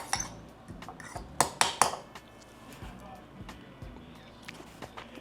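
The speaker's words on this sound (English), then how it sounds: "now I'm going in with a fork and I'm really gonna smooth everything out, combine it nicely." A fork scrapes and clinks against a dish while mixing a half-chunky, half-watery food into a smooth blend, with sharp metallic taps clustered near the middle and quieter scraping around them.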